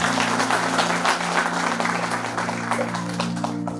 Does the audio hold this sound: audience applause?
yes